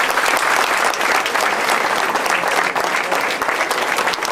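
Sustained audience applause at a political Tea Party event, dense and steady throughout, with no talk over it.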